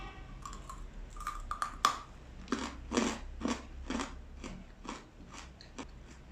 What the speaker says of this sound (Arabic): بصوا قرمشتها جامده قوي، هم مقطعينها كمان صوابع